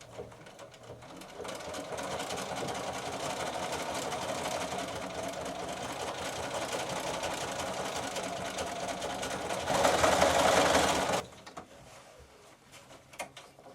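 A sewing machine runs a medium-length straight stitch along a cushion front, a steady close mechanical whirr that rises briefly near the end before stopping.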